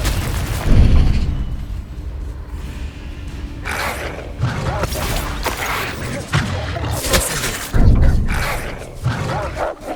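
Confringo blasting curse exploding in Hogwarts Legacy, loud booming bursts in a spell-heavy fight, several blasts spaced a few seconds apart amid crackling effects and rumble, with a character shouting between them.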